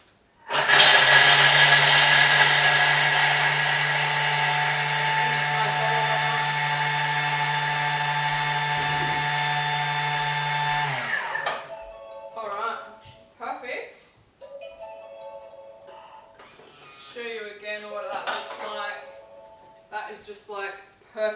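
A Thermomix grinds Parmesan at high speed, a loud steady whirring roar lasting about ten seconds before cutting off abruptly, followed by clattering and handling noises of the lid and bowl.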